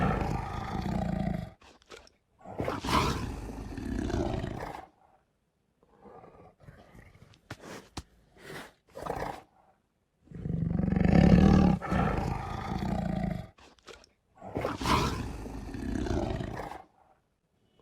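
A tiger roars repeatedly from a phone's 3D animal viewer, several long deep growling roars separated by pauses, with softer grunts and breaths in between, close and loud with no speech.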